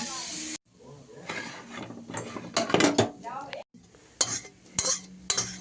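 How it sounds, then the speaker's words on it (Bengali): Onion goes into a hot pan for a home-cooked evening snack, bringing scraping and stirring clatter with soft sizzling that comes in bursts alongside someone talking close by. "তো আমি এখানে পেঁয়াজটা দিলাম"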